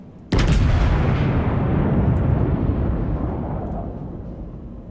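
A single heavy blast from a warship's guns in a naval video game, with a sudden loud onset followed by a long, rumbling decay that slowly fades over several seconds.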